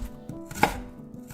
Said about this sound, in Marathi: इथे आपल्याला पनीरचे देखील बारीक तुकडे कट करून घ्यायचे आहेत.